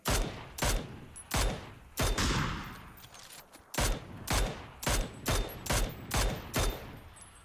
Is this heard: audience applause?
no